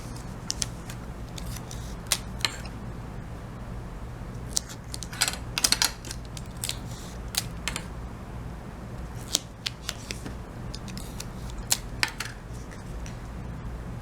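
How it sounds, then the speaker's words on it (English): Tape strips are pulled and pressed along the bottom edge of a paper craft, giving scattered short ripping and crackling bursts over a quiet background with no talking. "I'm going to tape all along the bottom, and I'm putting my tape as close to the edge as possible."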